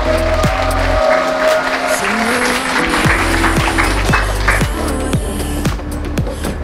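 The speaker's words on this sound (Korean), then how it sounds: "뜨거운 박수로 맞이해주시기 바랍니다" A hall audience gives a speaker a warm welcome at a Gcoop business presentation, with steady, loud applause throughout and sustained tonal sounds running underneath.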